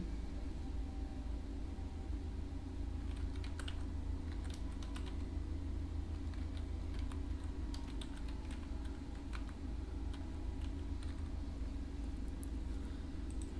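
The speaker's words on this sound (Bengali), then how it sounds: "আমি আমার ওয়েবসাইটের নামটা লিখে দিচ্ছি" Keys tapped on a computer keyboard while a website name is entered during Google Analytics account setup, the clicks faint and scattered in bursts over a steady background hum.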